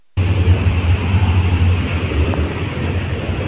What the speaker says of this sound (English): And that's the tram.